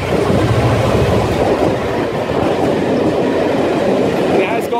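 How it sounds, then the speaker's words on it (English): Train hauling Pullman coaches passing near Worting Bridge on a windy day, loud continuous rumble with rhythmic wheel clatter, close and sustained throughout. "And it has got Pullman coaches on the back of it."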